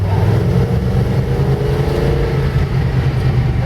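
Engine of a 1977 Dodge Ramcharger SE 4WD with a 440 V8 and 727 automatic held in first gear, a loud deep continuous rumble that rises and swells slightly under load while driving, with no talk.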